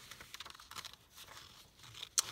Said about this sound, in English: I'm gonna need some smaller scissors to cut around that one